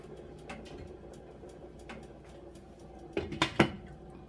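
Metal lid set onto a cooking pot holding pumpkin, potatoes, carrots and beans: a few close clinks and a short clatter near the end, over a quiet kitchen background.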